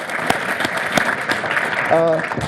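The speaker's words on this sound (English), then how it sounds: "another round of applause for this year's inductees" Applause for this year's hall of fame inductees at a university induction ceremony, a steady wash of clapping from the audience with a voice briefly speaking over it near the end.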